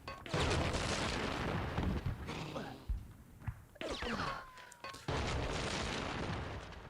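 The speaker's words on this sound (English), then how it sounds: "Okay, not the biggest explosion." Explosions boom in the war level of Conker's Bad Fur Day, dense crashing bursts with gunfire-like pops, briefly dropping away before a second loud blast swells back in.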